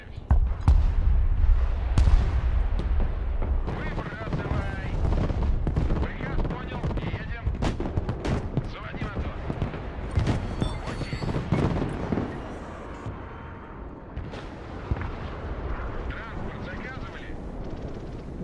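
Gunfire and artillery shooting in the strategy video game Broken Arrow, a dense run of sharp shots and heavy booms that is loudest in the first few seconds and keeps going under steady talking.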